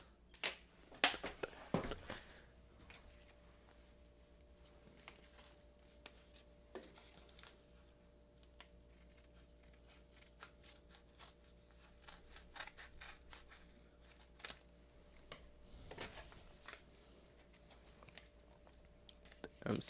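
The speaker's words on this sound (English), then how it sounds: "We'll get to the scissors." Scissors cut into packaging during an unboxing of a Bleach hollow mask necklace, heard as faint, scattered snips, clicks and plastic rustles with a few sharper taps.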